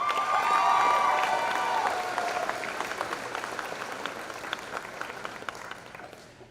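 Applause and cheering for the Valders High School graduating class of 2022 at a graduation ceremony, loud at first with a brief whistle, then gradually fading into scattered clapping.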